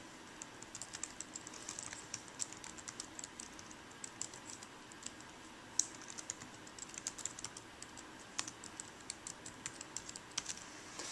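An email address and password are typed on a Chromebook keyboard in a quiet, faint run of rapid key clicks lasting several seconds, with no voices.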